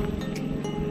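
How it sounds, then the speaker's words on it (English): A generator runs at a campsite on a Montana trip, giving a steady, loud, rumbling drone with no breaks. "sorry about the noise, generator's going."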